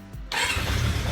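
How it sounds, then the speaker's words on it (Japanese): A Kawasaki GPZ400F motorcycle with FCR28 carburetors that had been overflowing starts up: a brief starter whir, then the engine catches at about 0.3 seconds and runs with a steady, close, rough mid-pitched rumble. "エンジンオン。"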